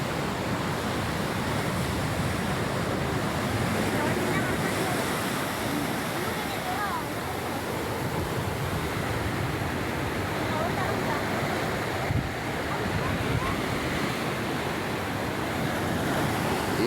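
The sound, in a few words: big waves at a river mouth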